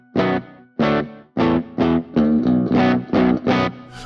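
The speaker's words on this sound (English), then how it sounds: "I put a bit of pre-delay in it just to get that sort of slapbacky kind of sound" An electric guitar played through a Titan amp model with studio reverb and slapback pre-delay, sounding as eight loud, evenly spaced distorted chords with short doubled echoes, each ringing briefly before the next.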